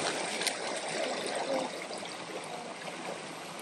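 Stream water flowing at a wide river crossing on the Centennial Trail, a steady broadband rush and trickle close by, even in level throughout with no voices.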